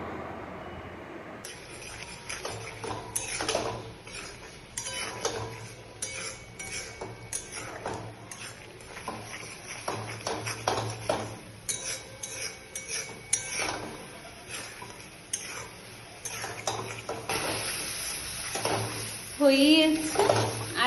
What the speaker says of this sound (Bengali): এবার একে একে এগুলো দিয়ে দেবো, তারপর আবার নাড়াচাড়া করব।